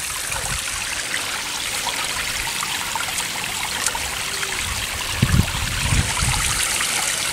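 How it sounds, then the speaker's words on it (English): Water trickles steadily through a ditch during storm preparation, a continuous close wash of running water with a few low thumps and rustles near the end, no voices. "So there's some water coming through it now."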